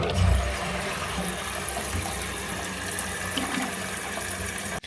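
A dual flush toilet's full flush, with water rushing loudly and steadily through the bowl, close by, from start to finish and then cutting off abruptly.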